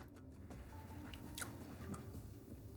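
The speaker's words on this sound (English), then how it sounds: "Did you hear the crunch when I bit into it?" A bite into a whole wheat pizza crust with melted cheese and reduced sauce gives a faint crisp crunch followed by soft chewing, close up and with no talking.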